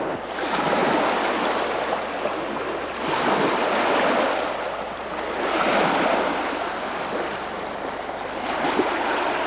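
Sea waves washing onto the Estonian shore, rolling surges of broadband rush that swell and fade every few seconds, mixed with wind buffeting the microphone, with no voices.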